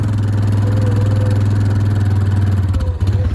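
An ATV four-wheeler with a hay elevator hooked up runs steadily at a low idle, its engine a close, continuous mid-pitched rumble with a slight clatter.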